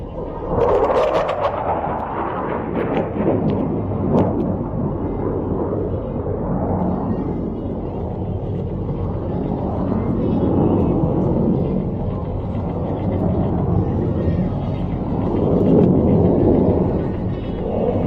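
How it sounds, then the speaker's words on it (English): An F-16 of the USAF Thunderbirds climbs straight up at the Hill AFB air show, a loud, continuous, heavy jet roar and rumble that swells slightly and never lets up, with no other sounds over it. "Captain Katz will demonstrate the exceptional climbing performance of the F-16 as he climbs 3 miles straight up"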